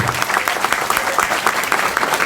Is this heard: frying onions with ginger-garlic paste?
no